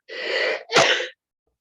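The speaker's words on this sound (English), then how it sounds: "I was waiting for that sneeze for like the last 30 minutes." A single human sneeze, close and loud: a breathy inhaled build-up followed by a sharp explosive burst, then silence.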